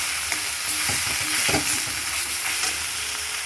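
Mutton going into a pan of frying spice masala, a dense, loud sizzle with repeated stirring clatter and scrapes close by, and no speech.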